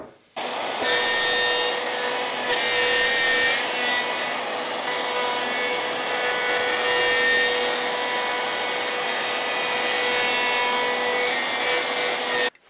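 Router cutting oak for coffee table legs, a loud continuous high-pitched whine with rough grinding, steady throughout with slight surges, no talking over it.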